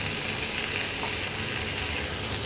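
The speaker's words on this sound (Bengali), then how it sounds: "এবারে মশলাগুলোটাকে ভালো করে কষাতে হবে।" Spices fry with green chili paste in hot oil, a dense steady sizzle heard close and unbroken.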